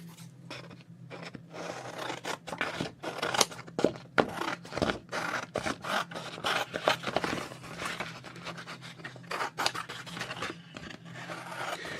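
Scissors trimming a gel print, with repeated close snips and papery scraping in an irregular rhythm, fairly quiet over a faint steady hum.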